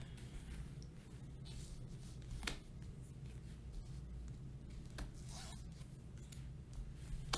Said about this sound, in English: we've got to shuffle up our deck again